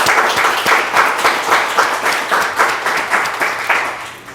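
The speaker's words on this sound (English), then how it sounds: "Make some noise for Panos." An audience claps together in a rhythmic, evenly spaced beat, loud and close, fading slightly toward the end.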